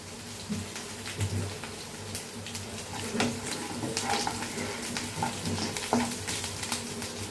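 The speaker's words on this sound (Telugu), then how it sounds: "కొంచెం ఎర్రగా వేపదిద్దాం కొంచెం వేగినాక ఉల్లిపాయలు వేసుకుందాం పచ్చిమిరకాయలు వేగితే చాలా బాగుంటాయి" Green chilies frying in oil in a pan for a carrot coconut curry, a steady close sizzle with scattered crackles and occasional stirring clinks, no talk.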